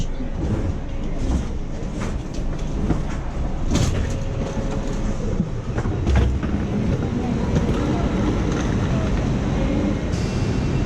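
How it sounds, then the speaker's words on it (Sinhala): A Heathrow Express train pulls into London Paddington station, a low steady rumble of the carriage with occasional clunks and rattles heard from inside, muffled voices faint in the background. "කෝච්චිය ලන්ඩන් Paddington station එකට ළඟා වුණා."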